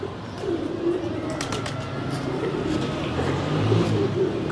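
Pigeons at a pigeon net setup in Rawalpindi coo softly and repeatedly in a steady, continuous murmur over outdoor background noise.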